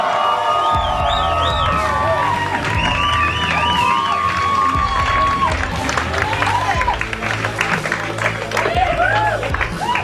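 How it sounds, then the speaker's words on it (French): A comedy show crowd cheers, whoops and applauds loudly as the main guest is introduced, with high shouts and whistles rising over dense clapping and a voice speaking through the din. "une bonne main d'applaudissements"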